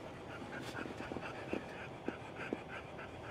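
Dogs pant softly inside a Tesla Cybertruck, a quick rhythmic breathing with a few faint whimpers and small knocks, close but quiet.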